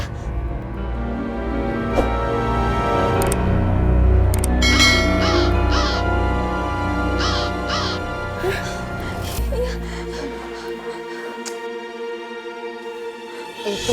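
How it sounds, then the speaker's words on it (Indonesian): A crow caws several times in a row, with harsh repeated calls that stand out over music and voices in a staged comedy scene. "Itu burung gagaknya, Bunda."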